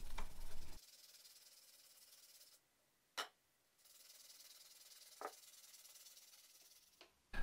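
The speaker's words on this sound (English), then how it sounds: "I'm just going to sand everything down now and make these blanks ready to be sealed." Cured Bondo lure blanks being sanded by hand, bursts of dry raspy hissing strokes separated by quiet pauses and a few sharp scrapes, close and moderately loud, no voices.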